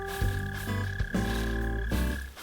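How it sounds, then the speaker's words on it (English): Mole cricket chirping from underground in Animal Crossing: New Horizons, steady tonal game sounds with repeated croak-like pulses in three bursts, close and moderately loud, no talking. "Frickin' mole crickets, man."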